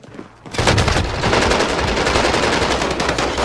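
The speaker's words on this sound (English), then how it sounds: "Oh, that's a gun!" Dense, rapid gunfire from the Warzone video game breaks in after a brief quiet start, then continues loud and close as sustained automatic bursts that blur into one another.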